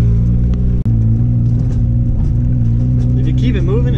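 An old, heavily smoking car drives away on a test drive, its engine a loud, steady low rumble with a brief dropout near the start and some faint background chatter.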